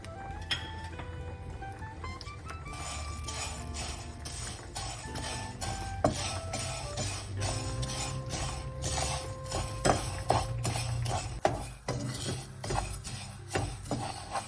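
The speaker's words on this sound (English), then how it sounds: "Add some ghee. Next, semiya and roast for few seconds." Semiya vermicelli roasting in ghee in a pan on a low flame, heard as repeated metal spoon clinks and scrapes against the pan with a faint sizzle underneath, close and steady, no talking.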